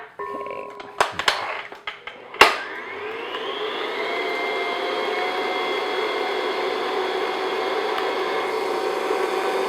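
An electric mixer beats an egg into coffee cake batter, building to a loud, steady motor whine after a few close knocks and clatters at the bowl.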